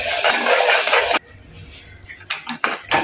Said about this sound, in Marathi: चटणी मी ना चांगली परतून घेतली आहे